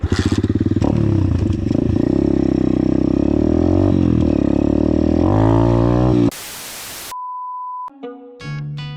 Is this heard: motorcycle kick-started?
yes